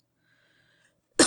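A voice imitates an irritating cough, one short harsh burst arriving suddenly after near silence, close and fairly loud.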